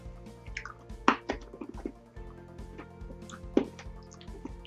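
Someone chews American candy up close with soft, wet, sticky squishing bursts and small clicks, faint and irregular, with no talking.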